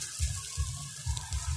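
Rain falling outdoors over steaks searing on a grill, a dense hissing patter with soft low thumps pulsing irregularly underneath.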